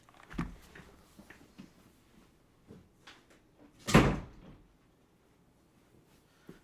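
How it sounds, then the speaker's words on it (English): An indoor door swings shut with one sharp, close thud, preceded by faint shuffling and soft handling noises in an otherwise quiet room. "I got to close the door real quick."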